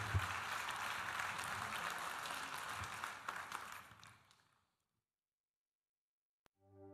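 A crowd applauds Eric Peters, president of Intermarché, at an audience-prize awards ceremony. The dense, steady clapping carries for several seconds, then fades out into silence.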